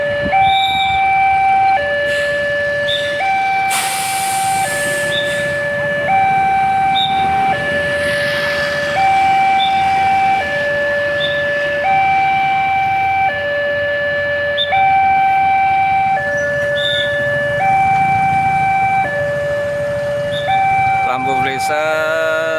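The warning alarm at level crossing JPL 90 near Baron station in Nganjuk, East Java, sounds as the barrier closes: a loud, close two-tone signal that alternates in a steady repeating cycle throughout.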